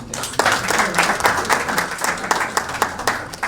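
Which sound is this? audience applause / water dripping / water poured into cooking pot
audience applause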